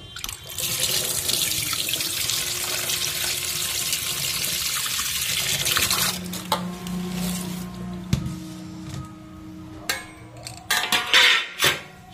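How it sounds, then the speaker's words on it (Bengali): Running tap water splashes steadily into a kitchen sink as katla fish are washed by hand, then gives way to intermittent splashes, clatters and handling noises, close with no talk. "চলো এখন মাছটা ধুয়ে নেব।"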